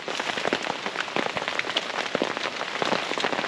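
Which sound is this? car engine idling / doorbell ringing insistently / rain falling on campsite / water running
rain falling on campsite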